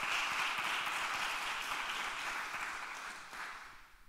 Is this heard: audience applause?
yes